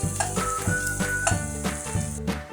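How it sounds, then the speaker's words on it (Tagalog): Garlic sautés in oil in a pan for chicken sotanghon soup, a continuous close sizzle broken by repeated rhythmic stirring thumps and faint tonal hum; no one speaks. "Unahin natin yung bawang kasi at papupulahin mga kayuday"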